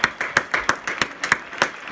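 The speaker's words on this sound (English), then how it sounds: "People get out on their balconies or the windows and they thank the medical staff and the doctors who are working in the hospitals by clapping" People on balconies and at windows clap to thank hospital doctors and medical staff in Madrid, the sharp claps arriving in a steady, repeated rhythm with no voices over them.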